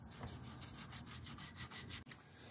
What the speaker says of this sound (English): getting rid of the majority of this with the toothbrush first